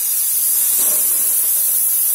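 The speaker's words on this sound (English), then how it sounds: "And now I'm going to show the steaming out of that." The steam wand on a prototype ACS Minima dual boiler espresso machine releases dry steam in a steady, loud, close hiss that runs unbroken for a couple of seconds with no talking.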